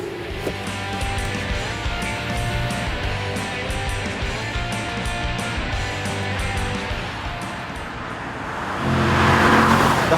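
A Chevrolet Camaro convertible's 6.2-litre V8 runs steadily up close with a rumbling idle, then the revs rise as the car pulls away, no voices.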